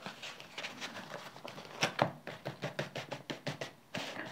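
Tarot cards being cut and dealt onto a mat, a series of soft, evenly spaced taps and slaps, quiet and close, with a few brisker shuffling touches in the middle.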